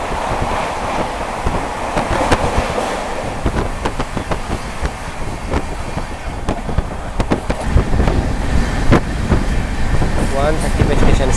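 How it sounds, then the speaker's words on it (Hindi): Express train, the 12351 Howrah–Rajendranagar superfast, running flat out at 130 km/h, a loud continuous rumble and wind rush with sharp rail clacks and rattles scattered through, heard from on board. "फ्लैट 130 की स्पीड से चल रही है गाड़ी और इस रूट पे 130 पे ही चलती है।"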